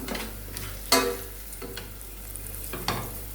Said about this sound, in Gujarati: હવે આપણે આને બરાબર મિક્સ કરી લેશું